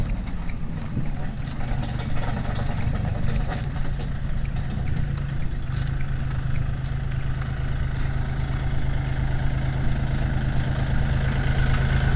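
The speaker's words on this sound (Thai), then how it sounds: "รถไถ" A tractor engine idles and runs steadily close by, a continuous low mechanical drone with a strong hum and even loudness from start to finish, no talk heard.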